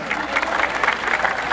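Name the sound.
audience applause at a bullfight festival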